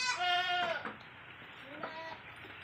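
Goats bleat inside a breeder goat house, one clear drawn-out bleat followed by a second, fainter call, heard close and loud over a low barn hum.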